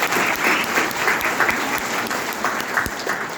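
Audience applause at a Mi Lifestyle business motivational meeting, a steady dense wash of clapping from a crowd that runs through the whole stretch with no pause.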